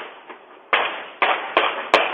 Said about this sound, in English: Video from a nearby Ring camera captured the sound of multiple gunshots.